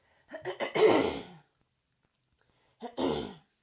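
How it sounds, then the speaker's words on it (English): Two bursts of throat clearing, the first longer with a few rough catches, then a short pause and a second brief clear; close and moderately loud. "I'm just going to clear my throat for a moment."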